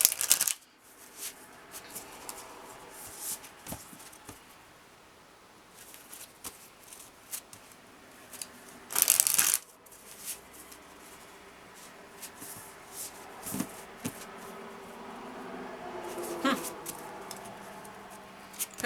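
A deck of tarot cards is shuffled in a short, crisp riffling burst midway, with softer card handling around it while a person talks over the quiet room.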